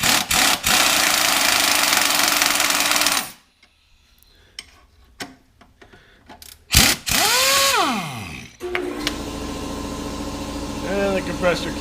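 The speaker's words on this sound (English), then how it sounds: "And the compressor kicks in." A loud air compressor runs in a shop during suspension work, then cuts out briefly. After the pause comes a rising and falling mechanical whine, and then the motor drones steadily again.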